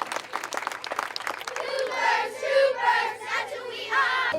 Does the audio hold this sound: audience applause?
yes